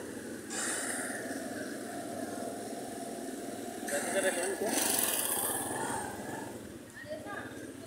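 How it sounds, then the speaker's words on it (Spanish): Two motorcycles pass one after the other on a street in Girardot. Their mid-pitched engines swell and fade in turn while a dog barks nearby and voices murmur underneath. "Ahí van las dos motos seguidas"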